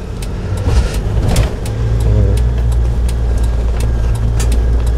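A car's engine pulls steadily during a manual-transmission driving lesson, a continuous mid-pitched drone that builds slightly and holds near and loud, with no talk over it.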